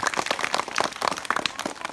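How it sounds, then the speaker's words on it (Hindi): A group of children claps together at a cow shelter awareness session, producing a quick, dense patter of many hands that continues steadily and fairly close. "ताली बजाओ जरा।"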